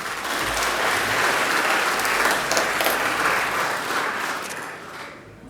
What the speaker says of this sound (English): Ladies and gents, round of applause for Bob Doyle.